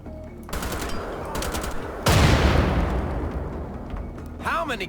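Gunfire in the shooter game Wolfenstein: The Old Blood, rapid automatic bursts followed by a heavy blast, with someone speaking over the shooting.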